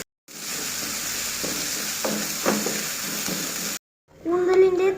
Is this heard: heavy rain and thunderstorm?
no